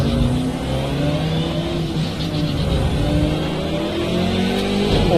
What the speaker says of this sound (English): that McLaren sounds nice